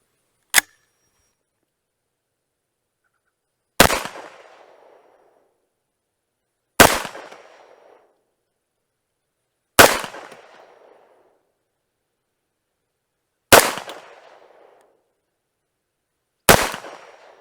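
A Tommybuilt T7 rifle fires Czech-made ammunition in five loud, sharp single shots spaced about three seconds apart, each with a short echoing decay, after a faint initial click.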